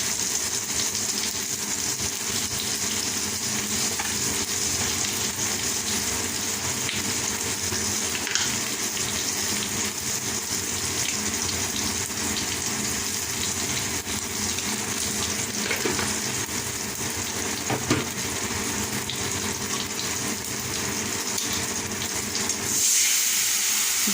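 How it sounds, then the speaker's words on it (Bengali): A paste of cumin, coriander, Kashmiri chili powder, salt and turmeric sizzles and hisses steadily in a hot pan for a Bengali fish curry, a loud, continuous frying sound with occasional stirring scrapes. "দিয়ে খুব ভালো করে মশলাটাকে কষিয়ে নেব, যাতে মশলার কাঁচা গন্ধ চলে যায়।"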